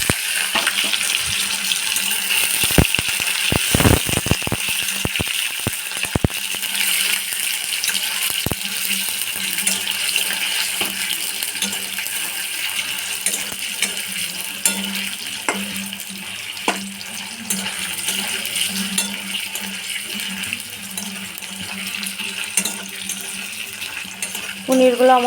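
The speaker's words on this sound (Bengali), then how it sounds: "হাই ফ্লেমে পনিরগুলো ভেজে নেব।" Paneer cubes frying in hot oil on a high flame for a chana paneer dish, giving a steady bubbling sizzle throughout with a few sharp clicks of a utensil against the pan early on.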